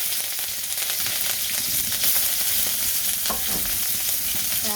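Green chilies fry in hot oil with a steady, loud broadband sizzle, a few stirring scrapes breaking through near the middle, and no voices.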